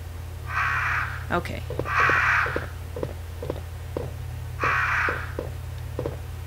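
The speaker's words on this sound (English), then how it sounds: "Those crows look pretty cool considering how low poly they are." Crows caw in the Resident Evil: Director's Cut video game, three loud harsh calls spaced apart over a low game hum and light tapping, with a brief spoken word.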